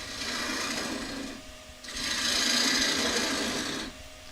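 A woodturning gouge shaves the top of a thin-walled wooden bowl on a spinning lathe, giving two long, steady scraping cuts with a short pause between them, close and loud with no talking.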